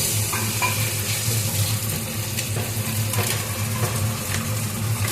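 Onion, chili paste and ginger-garlic paste fry in a pan for mutton biryani, giving a steady close sizzle with soft stirring scrapes and no voices.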